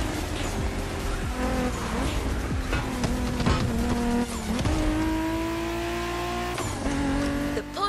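Porsche 911 driven in the racing game The Crew Motorfest, a steady engine drone with shifting pitch as it accelerates and changes gear, plus brief tire squeal, loud and continuous throughout with no voices.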